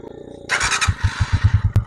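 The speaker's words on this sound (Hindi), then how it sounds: "ये सेल्फ जो है ना, ये इंजन इसका स्टार्ट हो जाता है, बाइक स्टार्ट हो जाती है" A Honda CG 125 motorcycle engine is started with the electric self-start button, a short starter whir then catching into a rhythmic, close idle putter with a sharp click near the end.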